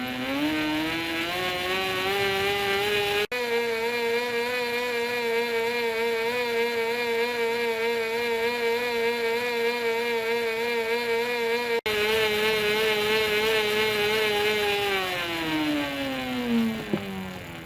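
A pedal-driven bicycle electrical generator whines with a layered, harmonic hum that rises in pitch, holds steady through the middle, then winds down near the end.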